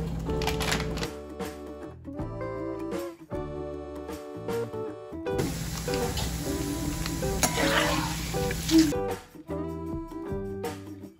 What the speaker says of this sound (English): In the same oil, add some poha.